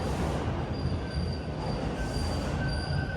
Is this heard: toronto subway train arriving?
yes